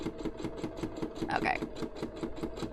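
A sewing machine finishes a seam with a steady, rapid run of rhythmic stitching pulses, close and moderately loud, while a voice briefly speaks over it.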